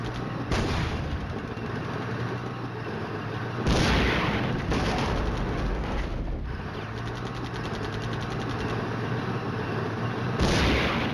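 Explosions and gunfire from bombing a hill in the war game Flashpoint Campaigns: Red Storm, with a steady loud roar of blasts and rattling fire, several sharp bursts swelling and fading, no voices.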